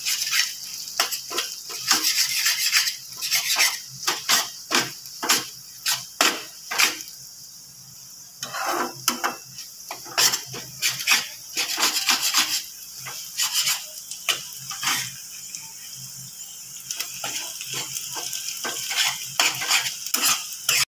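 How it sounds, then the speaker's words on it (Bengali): Fish eggs fry in a pan over a medium gas flame while a metal spatula scrapes and stirs them into crumbles, giving repeated sharp clinks and scrapes over a steady sizzle, close and loud with no talking. "ডিমটা এবার এখানে ভালো করে ভেজে নেব, এইভাবে ঝুড়ো করে দেবো।"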